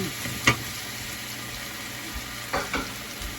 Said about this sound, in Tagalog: Tapos mag-gisa tayo ng bawang.